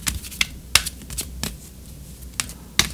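Tarot cards being shuffled by hand, a series of crisp riffling slaps and flicks at irregular intervals, close and fairly quiet with no talking.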